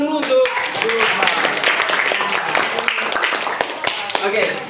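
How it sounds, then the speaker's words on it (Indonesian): A school class applauds with dense, continuous clapping, loud and sustained, while voices murmur underneath. "silakan kita berikan tepuk tangan dulu untuk Zulfa."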